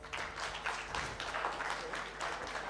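An audience at a women's economic forum in Kenya claps together in a dense, steady round of applause that carries through with an even level, heard from across a conference room.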